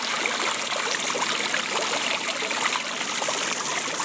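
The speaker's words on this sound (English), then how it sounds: "behind me, we have a fountain" An outdoor fountain splashes continuously, a dense, steady rush of falling water heard up close without pause.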